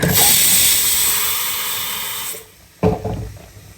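A pressure cooker cooking rice lets out a loud, close, continuous hiss of escaping steam that fades out, then a second shorter burst of hissing after a brief pause.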